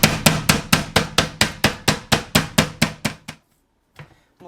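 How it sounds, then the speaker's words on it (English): A tenderizing hammer pounds pork loin thin on a meat cutting board, about thirteen sharp, evenly spaced thuds in rapid rhythm, close and loud, then a short pause and two lighter taps. "the pork loins to about 1/4 inch thickness using a tenderizing hammer"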